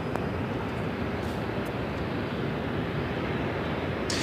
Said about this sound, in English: Japan Airlines, the flight to Osaka now lined up for takeoff on 25 right.